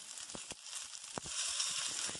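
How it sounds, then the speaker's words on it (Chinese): A fish with preserved mustard greens fries in an iron wok, crackling and sizzling steadily with a few sharper pops, close up and without talk. "煎另外一边，用翻我头先讲嘅同样方法"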